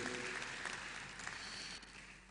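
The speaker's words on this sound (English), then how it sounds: "A round of applause for him again too." Audience applause at the Ogbomoso Digital Economy Summit 2025 conference, a steady wash of clapping through most of the clip that thins slightly toward the end.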